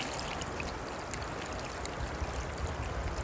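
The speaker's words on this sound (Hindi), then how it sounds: "ये है अपनी कोसी नदी" The Kosi river near Ramnagar and Jim Corbett flows as a clear, shallow stream, giving a continuous rushing, bubbling wash that sounds close and steady, with no talk.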